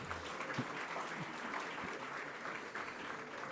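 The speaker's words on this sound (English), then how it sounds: "Give a round of applause, ladies and gentlemen. Loretta Dunn." Steady, dense clapping from an awards ceremony audience greets Loretta Dunn at the Comrades Marathon honours, holding at an even volume throughout.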